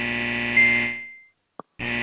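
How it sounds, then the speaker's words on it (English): A loud, steady buzzing alarm blares in the Sega Saturn game Sakura Wars (1996), cuts off into a short silence broken by one brief blip, then resumes at full strength. "What was that alarm?"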